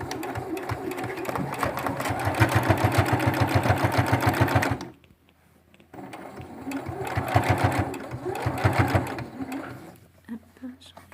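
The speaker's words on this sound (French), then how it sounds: "Donc je viens piquer sur la piqûre qui avait tout autour" A sewing machine stitches a fabric face mask in steady rapid bursts, running a few seconds, pausing briefly, then running again, close and clear with someone speaking over it.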